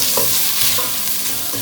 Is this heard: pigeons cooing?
no